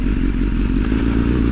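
A 2022 BMW S1000R motorcycle pulls away in sixth gear from low speed, its engine a loud, steady, deep drone heard up close for a brief moment.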